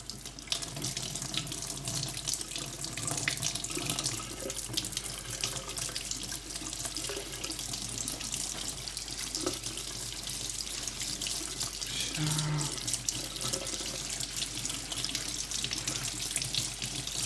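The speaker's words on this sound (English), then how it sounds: "The Bruyere will not soak up the water, so I can rinse it out quite easily." Tap water runs steadily over a Lux Bruyere briar pipe as it is rinsed out in a sink, a continuous close splashing hiss with small shifts as the pipe moves under the stream.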